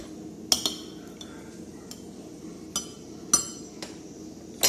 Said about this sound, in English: Stir it up, put it in.